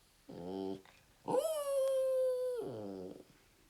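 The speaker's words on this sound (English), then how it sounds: "It's just another dog." A dog howls indoors: a short whining howl, then a longer sustained howl that rises and holds before dropping into a final whimpering howl, fairly close and alone.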